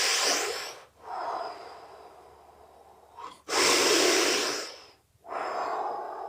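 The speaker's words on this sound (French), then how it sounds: "Donc, grande inspiration, grande expiration, on contrôle." Deep, controlled breathing as in the Wim Hof method before a cold bath, heard as long loud inhales and exhales in slow rhythm, close and breathy, with no speech.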